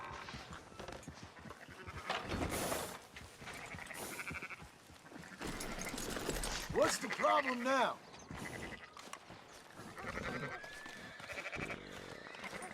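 Sheep bleat in the video game Red Dead Redemption 2, with a few wavering bleats in the middle amid game ambience while people talk throughout.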